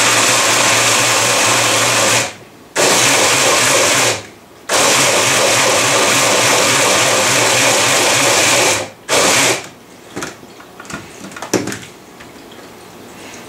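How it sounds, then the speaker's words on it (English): An immersion blender purees canned chipotle peppers in adobo sauce inside a lidded container, its motor whirring loudly in long bursts broken by short pauses, then tapering into softer intermittent pulses and clatter near the end. "And we take in our submersion blender."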